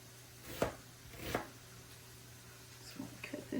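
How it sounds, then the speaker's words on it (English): Knife chopping a bell pepper on a cutting board for taco spaghetti, a few sharp separate cuts near and fairly quiet, then a quicker cluster of lighter taps toward the end. "now the bell pepper, I'm going to cut it down smaller pieces."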